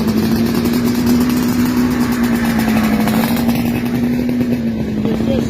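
A motorcycle engine idles steadily in Italy, a constant close rumble holding one pitch throughout, with people talking over it.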